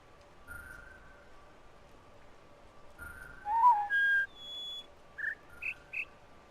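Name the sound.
bird whistling call in a video game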